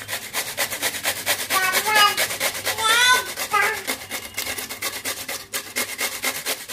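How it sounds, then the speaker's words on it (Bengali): Radish rubbed against a hand grater, rapid rhythmic scraping strokes repeating steadily for the whole stretch, close and crisp, with faint vocal sounds in the background. "মূলো ভালো করে ঘষে নিয়েছি।"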